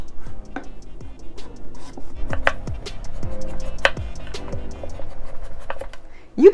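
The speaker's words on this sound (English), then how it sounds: "Use your knife to carefully remove the squash ends and the skin." A knife slices the ends and skin off a buttercup squash on a cutting board: irregular crisp cuts and sharp knocks against the board, some quick and close together, with faint scraping in between.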